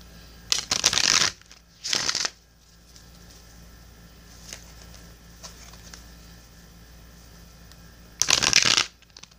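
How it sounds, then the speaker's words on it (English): Oracle cards are riffled and shuffled in three quick, crisp bursts, close by, separated by quiet stretches with faint handling noises. "well, that was a really terrible shuffle."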